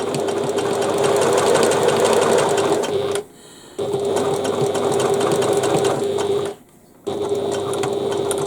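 A sewing machine runs steadily, stitching bias binding along a crease line, with two brief pauses where the motor stops before resuming its loud, even whirr.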